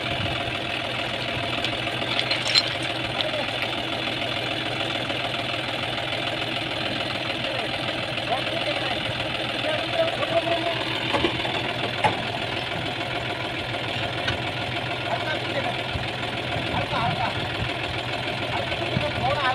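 A tractor engine idles steadily at close range while it is hitched to a trolley, a continuous low rumble with a faint knocking texture that holds level throughout.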